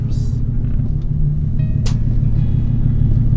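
Genesis car with a polyurethane rear differential mount kit driven on the road, a steady low rumbling drone of engine and road noise heard from inside the cabin, with a few faint clicks.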